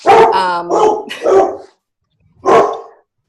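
A dog barks loudly and close by: a quick cluster of three harsh barks, a pause, then one more bark, with no talking over them.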